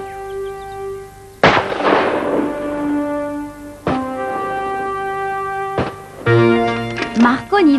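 A few loud, sharp gunshot bangs ring out at intervals, each followed by a ringing tone, with voices talking between the shots.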